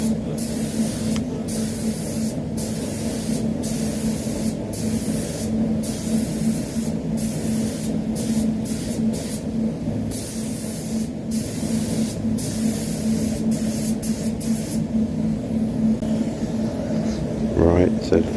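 A spray gun laying clear coat onto a car bonnet, a loud continuous hiss broken into repeated short bursts and pauses as passes are made, with a steady low hum underneath and a voice talking over it.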